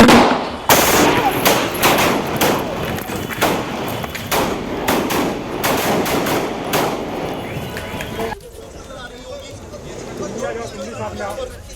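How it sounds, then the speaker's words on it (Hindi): Rapid bursts of loud gunfire crack one after another, a dense volley lasting several seconds, then the shooting stops and only a noisy background remains, at a live shooting attack on Atiq and Ashraf. "मैम हम लोग पे गोलियां चल गई मैम"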